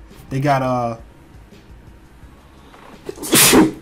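A person speaks briefly, then after a pause lets out one loud, sharp sneeze close by.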